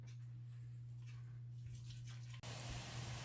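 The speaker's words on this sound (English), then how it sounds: "our water is boiling" Water boiling in a pot for pasta makes a soft, steady bubbling hiss under a constant low hum. A sudden brighter rush of noise comes near the end.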